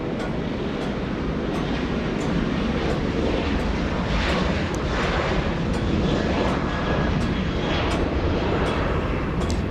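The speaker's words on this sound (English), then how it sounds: "There goes WestJet, most likely to Calgary." WestJet airliner taking off from Los Angeles International Airport, a steady broad jet roar holding at constant loudness throughout, with faint high ticks over the rumble and no voices.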